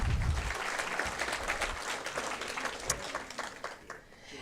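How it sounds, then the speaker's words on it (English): Seminar attendees applaud an expert panel at an investment evening, with moderate, steady clapping from a modest crowd that tapers slightly toward the end. "please give a round of applause for our expert panel here tonight"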